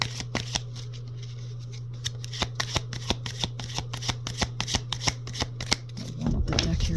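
A tarot deck shuffled close up, a rapid run of crisp card slaps and riffles over a steady low electrical hum, ending in a brief rustle.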